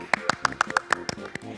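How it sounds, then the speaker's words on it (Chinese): A child clapping along on a children's television show: about ten crisp, close handclaps in a quick, fairly even rhythm, then tapering off, with no speech. "帮自己拍拍手"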